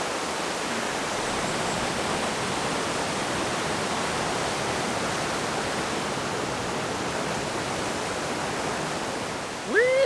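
Steady roaring rush of a waterfall on a river in Theth in the Albanian Alps, a broad close wash of water that holds unbroken and loud throughout.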